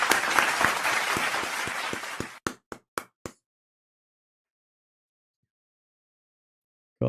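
Brief round of applause during a live football watchalong of Man United v Brentford, dense clapping for about two seconds, then a few separate claps before silence.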